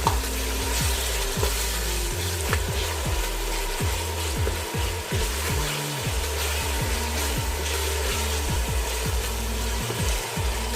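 Chicken keema frying in a pan with ginger and garlic, a steady sizzle under repeated rhythmic scraping of a spatula stirring the mince, with no talking.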